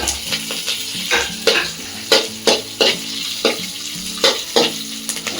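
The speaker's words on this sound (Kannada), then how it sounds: "ಸ್ವಲ್ಪ ಕರಿಬೇವು, ಅದು ರೋಸ್ಟ್ ಮಾಡ್ಕೊಳ್ಳಿ." Curry leaves sizzle and crackle in hot oil while a spoon stirs the pan, sharp scrapes and taps recurring every half second or so over a steady frying hiss, close and alone.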